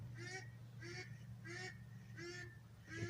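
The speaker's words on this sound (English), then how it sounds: "The mallards aren't happy this morning." Mallard ducks call outdoors in the early morning, giving about five loud, harsh honking bursts spaced roughly half a second apart over a steady low hum.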